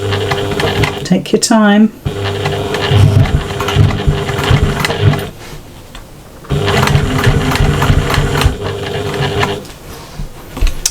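A sewing machine top stitching the straps of a patchwork shopper bag, its loud whirring motor running in two long bursts with a short pause between, and someone speaking briefly near the start.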